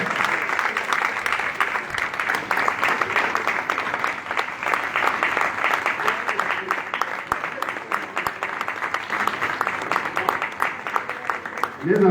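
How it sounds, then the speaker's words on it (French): A crowd at an event gives a long, sustained round of applause with dense, crackling hand claps at a steady, fairly loud level, a voice briefly audible at the very end. "Un tonnerre d'applaudissements."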